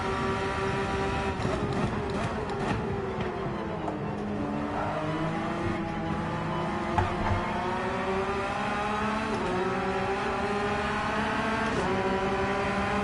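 Race car engines in Gran Turismo 7 drone and shift pitch continuously as several cars run close together, steady and loud throughout with no voices.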